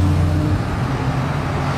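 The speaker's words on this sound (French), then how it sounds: "Petit downshift." A Lamborghini Reventon Roadster engine drones loudly up close as it downshifts, with a strong low tonal growl and steady rumble throughout.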